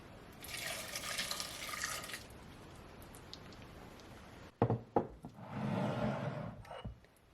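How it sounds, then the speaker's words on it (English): Half a cup of water poured into a saucepan with cranberries, a steady splashing stream in two separate pours with some knocks of the cup in between, close and moderately loud. "Half a cup of water."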